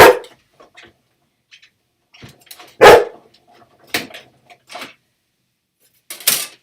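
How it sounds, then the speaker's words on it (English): An indoor dog barks in short, loud, separate bursts, a handful of sharp barks spaced a second or so apart with quiet gaps and faint rustling between them. "sorry about the dog."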